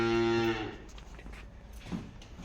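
A loud, close moo from a buffalo for about half a second, followed by quieter barn rustling and shuffling.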